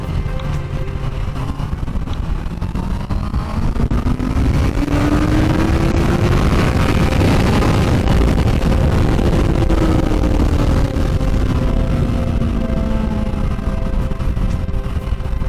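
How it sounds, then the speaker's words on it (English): A Honda CBR 650 R four-cylinder motorcycle engine drones continuously while riding, its pitch rising and falling smoothly with speed under heavy wind rush, loud and steady throughout without any talking. "The sound of a 4-cylinder engine is so soothing."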